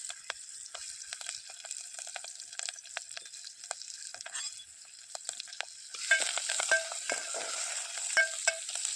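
Onion, curry leaves, garlic and cumin sautéing in a pan for drumstick-leaf bhaji, a crisp steady sizzle broken by repeated scrapes and stirring clatters, close and alone.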